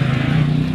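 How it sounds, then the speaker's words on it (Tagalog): A motorcycle engine drones steadily on a street, a loud close buzzing hum that holds for a moment without any speech. "Ang ingay-ingay ng motor."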